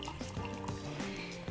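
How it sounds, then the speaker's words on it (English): Clase Azul tequila pouring into a glass, a short, quiet liquid trickle and splash heard close up in a still room. "let's give it a little pour"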